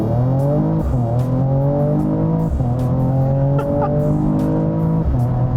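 A Mercedes-AMG E53 Cabriolet with a six-cylinder engine launches hard in Sport Plus with the automatic gearbox. The engine note climbs in loud rising sweeps, broken by quick gear changes about every two seconds.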